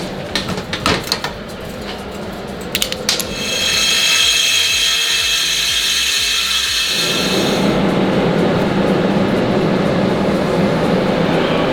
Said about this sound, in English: I'll just complete the hole to a nice round shape with the die grinder